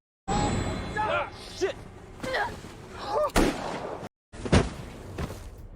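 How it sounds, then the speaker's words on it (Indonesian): A few sharp, loud gunshot-like bangs crack out in a film scene, spaced irregularly between stretches of speech, with one heavy blast near the end after a brief silence. "Ed yang mendengar suara tembakan langsung keluar untuk memeriksa"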